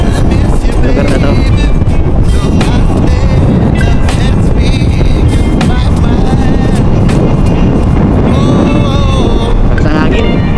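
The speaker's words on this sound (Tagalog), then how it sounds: "Lakas ng hangin." Strong wind buffets the microphone outdoors in Barangay Tarusanan, Naga City, a loud continuous rumble and roar that swamps the whole recording.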